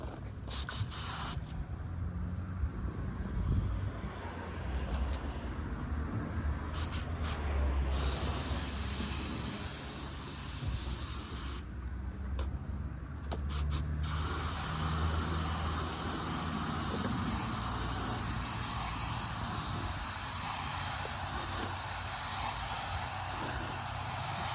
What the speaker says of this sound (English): let's go ahead and try to spray some clear